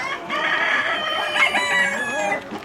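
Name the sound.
rooster crowing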